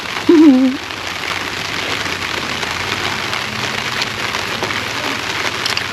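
Steady rain falling outdoors during a meal, a dense even hiss of drops on surfaces throughout, with a brief voice near the start.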